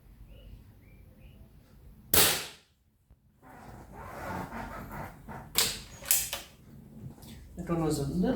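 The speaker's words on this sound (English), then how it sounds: "the rifle is a little bit on the loud side" A budget air rifle fired without a silencer gives a sharp, loud crack followed by a quick decay, with a couple more short impact-like bangs later and someone talking in between.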